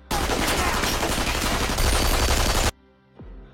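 A dense, continuous burst of rapid gunfire, loud and close, cuts off abruptly and leaves a low rumble and a faint sliding tone.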